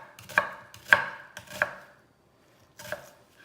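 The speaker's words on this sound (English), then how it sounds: "Okay, you see I chopped up all the onions." Knife chopping onions on a cutting board, a medium onion and two small ones for pickled habanero relish: three sharp close chops in quick succession, a pause, then one more, with no talk.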